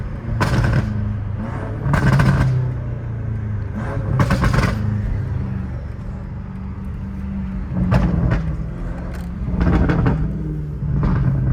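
A BMW M5 F90 Competition with a full titanium exhaust and downpipes rumbles low while bursts of sharp crackling burbles pop out in clusters, loud and close, with pauses of steadier engine drone between them.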